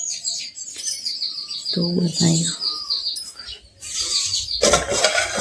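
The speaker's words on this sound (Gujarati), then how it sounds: "तो गाइस चकलियों आई आज" Sparrows chirp in quick, bright bursts near a farm, their calls filling the whole stretch with one louder flurry at the end, while a voice speaks briefly partway through.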